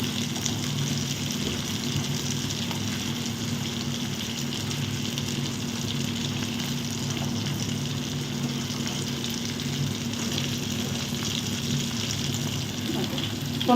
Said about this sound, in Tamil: இந்த சிக்கன் வந்து ரெண்டு பக்கமும் நல்லா பொரிஞ்சிச்சு